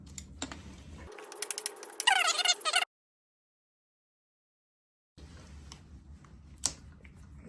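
A ratchet undoes an 8mm bolt on a Kx125 radiator in quick, close clicking strokes. The clicks are followed by a stretch of silence, then faint workshop noise.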